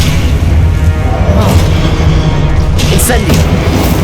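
Confringo blasting spell explodes in Hogwarts Legacy on Xbox Series S: a loud, dense booming blast that fills the whole clip, with rumbling low end and crackling bursts layered over it.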